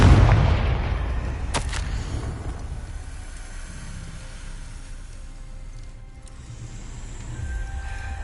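A Confringo spell explosion in the Hogwarts Legacy video game, a loud booming blast that decays into a long rumbling tail with a faint crackle partway through.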